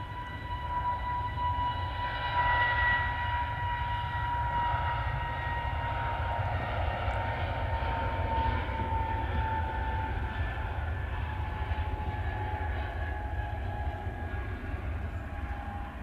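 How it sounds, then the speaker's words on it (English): A 37-year-old Jet2 Boeing 757 landing on its final arrival produces a steady, moderately distant engine roar. The roar holds evenly for about sixteen seconds with no speech. "Jet2's just landed."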